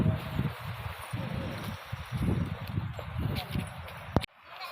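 Steady wind blows in a continuous rushing noise, with rustling gusts and a voice speaking underneath before it cuts off abruptly.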